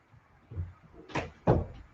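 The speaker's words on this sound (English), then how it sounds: "let me open the door here" Indoor door being opened, a few soft clunks and knocks of the latch and handle, then two sharper bumps close by, fairly quiet with no talking.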